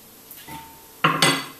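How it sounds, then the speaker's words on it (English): A spoon scoops ripe avocado flesh into a blender jug, giving a faint scrape followed by two quick, clear clinks against the jug, close and alone. "scoop out the flesh of your avocado into your blender jug"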